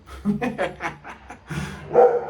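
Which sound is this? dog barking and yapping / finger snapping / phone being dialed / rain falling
dog barking and yapping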